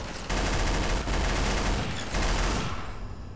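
Dense, continuous gunfire in Garry's Mod, a loud unbroken roar of rapid shots lasting a few seconds before cutting off.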